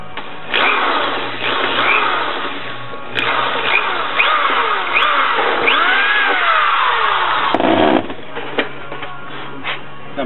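A steady mechanical whine from a power drill boring a hole in a Stormtrooper helmet ear piece runs through most of the clip, with scraping and rising squeaks as it bites in, pausing briefly near the end.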